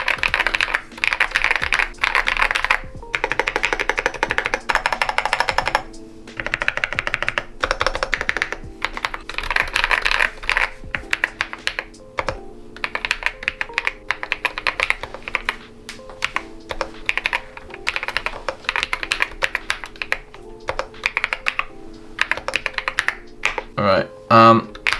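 Continuous rapid typing on a budget mechanical keyboard with an Alice layout gives a dense, steady clatter of key presses and brief pauses that lasts throughout.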